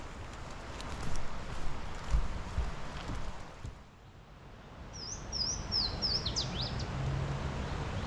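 An unidentified bird calls along a wooded trail at High Falls State Park in Jackson, Georgia, in spring: a short run of faint, distant chirps late in the clip over quiet outdoor ambience.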